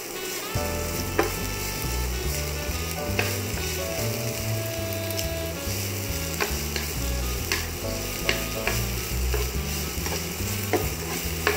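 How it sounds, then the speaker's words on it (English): Garlic, salt and black pepper sizzle and crackle steadily in a hot oiled sauté pan while being stirred, a close, continuous frying hiss with occasional utensil scrapes and taps. "You're gonna lightly saute this up because you're gonna place your spinach in there."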